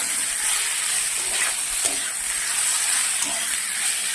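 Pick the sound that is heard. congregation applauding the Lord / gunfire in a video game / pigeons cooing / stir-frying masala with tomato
stir-frying masala with tomato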